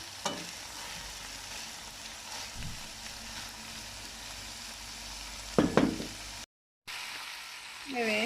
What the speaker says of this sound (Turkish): karnabaharları bu şekilde birbirine karışarak 10 dakika falan kavuruyoruz